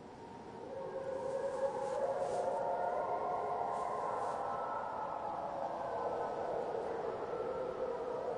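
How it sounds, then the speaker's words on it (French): Wolves howl in the distance in the Carpathian mountains, a sustained, layered wailing that rises and holds over a steady noisy background for several seconds. "Un soir, l'équipe perçoit leur hurlement au loin."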